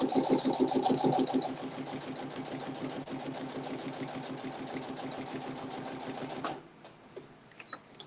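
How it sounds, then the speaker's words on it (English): A sewing machine runs a quilt seam with a fast, steady motor hum and needle chatter, close and loud for about six seconds before stopping, followed by faint handling clicks. "And sew down that line"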